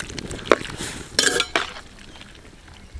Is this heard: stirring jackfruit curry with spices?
yes